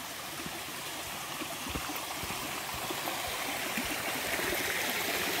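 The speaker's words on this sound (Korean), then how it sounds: "시원한 물소리." Cool stream water flows along a trail, a steady rushing and gurgling that stays fairly soft and even throughout, with no voices.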